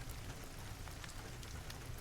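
Steady rain falls on a surface with a soft, continuous hiss and scattered patter of drops, quiet and even throughout with no voices.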